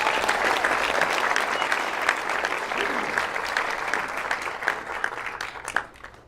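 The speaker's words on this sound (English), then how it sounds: "Let's give them a round of applause." A political day gathering applauds in a loud, sustained round of clapping that slowly thins and tapers off toward the end.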